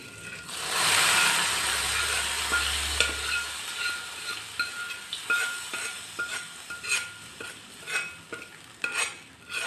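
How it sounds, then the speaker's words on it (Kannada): Hot tempering of curry leaves and asafoetida poured into Karnataka-style avarekalu huli, a Brahmin-style field bean curry, sizzling loudly at first and then settling into a crackling, popping fry with no talk. "ಈಗ ಒಗ್ಗರಣೆ ಮಾಡಿರೋದನ್ನು ಹಾಕ್ತಾಯಿದ್ದೀನಿ"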